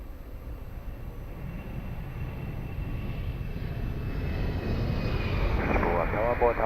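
A jet airliner rolls for takeoff on runway 02 at Lisbon Airport, a steady broadband engine roar that builds gradually and stays at a distance, with radio voices briefly audible near the end.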